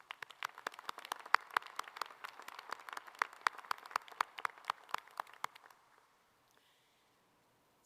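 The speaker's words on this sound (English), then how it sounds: "let's give them one more round of applause" A round of applause from the audience at a law school commencement ceremony, scattered distinct claps at moderate distance that thin out and stop after about six seconds, leaving near silence.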